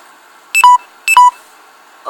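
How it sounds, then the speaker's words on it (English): A phone sounds its low battery warning as two short, identical electronic beeps about half a second apart, loud and close, with no talking. "oh no, my phone's about to die."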